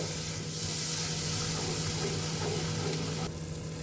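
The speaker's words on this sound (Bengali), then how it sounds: "মশলার সঙ্গে ভালো করে মিশিয়ে নিচ্ছি এবং এটাকে আমি কষতে দেব" Green chili and tomato paste with spices sizzles steadily in a pan, a continuous loud hiss of frying with no talking.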